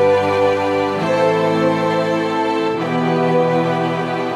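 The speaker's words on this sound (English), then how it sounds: "String sounds like this." A Yamaha NU1XA AvantGrand hybrid piano's string voice plays sustained chords that swell and shift gently, rich and warm, with a chord change roughly every couple of seconds.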